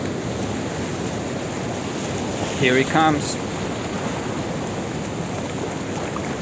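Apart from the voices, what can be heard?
ocean waves washing onto the shore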